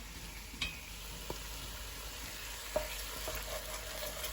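Mushrooms for beef stroganoff sizzle steadily in a pan, a quiet even hiss broken by a few faint clicks and taps; no voices.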